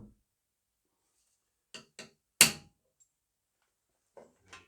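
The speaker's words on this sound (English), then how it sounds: "And a sharp tap at an angle." Sharp metallic taps on a Triumph Stag carburettor part clamped in a vise, one loud strike among a few lighter knocks, spaced apart by silence.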